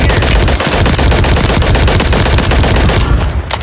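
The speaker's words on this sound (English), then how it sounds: "Taking effective fire! I'm getting shot at, huh?" Rapid automatic gunfire from Call of Duty Warzone, with dense overlapping bursts of shots firing continuously and loud from start to finish, close and sustained.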